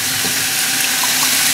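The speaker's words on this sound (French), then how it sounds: "Puis là, je vais rajouter beaucoup d'eau." Water pours steadily into a pot of homemade pumpkin and leek soup, a continuous close, fairly loud rush with no speech over it.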